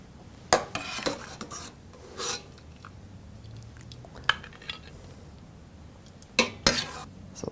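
Ladle scraping and clinking against a pot and bowl as lemongrass chicken broth and vegetables are served, with quiet, sparse metallic clinks and rubbing sounds spread out over several seconds.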